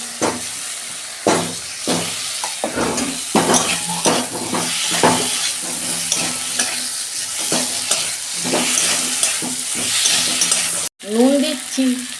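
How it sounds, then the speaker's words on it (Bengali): Potatoes are stirred into a frying spice masala for a Bengali egg curry. A loud, continuous sizzle is broken by rhythmic scraping and clanking of a spatula against the pan, ending in a brief cut. "মশলা কষানো হয়ে গেছে, আমি আলুগুলো দিয়ে দিচ্ছি।"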